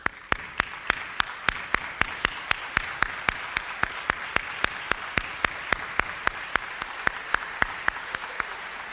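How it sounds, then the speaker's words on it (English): A banquet gala crowd gives a round of applause to major donors, though the sound is a single steady clapper, regular sharp claps about three per second, close and consistent with no talk over it. "Can I have you stand up? We'll give you a round of applause."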